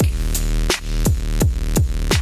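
Electronic music with deep booming bass hits falling in pitch, landing roughly every third of a second over a steady synth bed, loud and driving.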